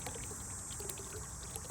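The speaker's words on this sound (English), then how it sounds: "I've got this little pump down here that's just moving a little bit of water" A small solar-powered pump moves a little water in an outdoor pond, giving a faint, steady trickle and gentle splashing with soft hiss throughout.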